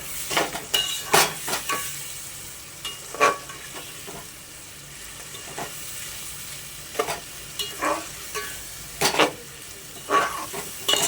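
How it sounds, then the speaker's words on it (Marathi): Spinach puree is stirred into rice in a hot pan, with repeated close scraping strokes of a spoon against the metal coming in irregular bursts over a steady background sizzle. "आणि आता आपण ह्याच्यामध्ये पालकची प्युरी घालूयात मी पालक प्युरी घातली आहे हे सगळं आपल्याला छान मिक्स करून घ्यायचं आहे"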